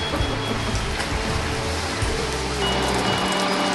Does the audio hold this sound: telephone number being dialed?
no